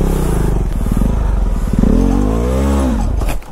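A KTM 390 motorcycle revs hard on an off-road track, its engine note climbing and falling in loud, close sweeps with some clattering, no speech over it.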